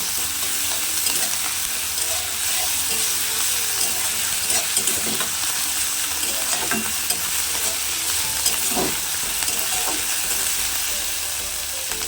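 Steady oil sizzle and frying hiss of ginger-garlic paste throughout, with occasional scraping stirs of a spatula against the pan; no talking.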